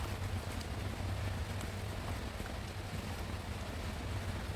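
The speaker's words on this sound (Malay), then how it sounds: "Bunyi agak bising semasa saya memasak sambal ni. Sebabnya tengah hujan." Steady broadband rain patter falls outside during home cooking of sambal with ikan bilis for nasi lemak, a constant even hiss with no other clear sounds.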